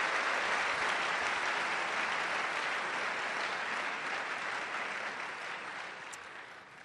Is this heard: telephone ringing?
no